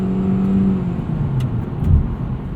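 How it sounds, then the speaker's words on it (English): Inside a 2020 Hyundai Elantra Limited at full throttle, the CVT drivetrain gives a steady whir under a low engine drone, with no talk. "It's a little bit of whirring away from the drivetrain when you're in full throttle"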